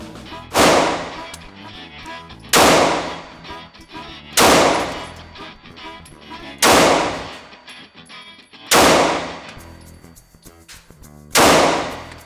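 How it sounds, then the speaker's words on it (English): A SCCY CPX-2 pistol fitted with an aftermarket guide rod and spring fires five loud, sharp gunshots at a steady pace about two seconds apart, each with a short ringing decay. "Now 10 shots using the new guide rod and spring."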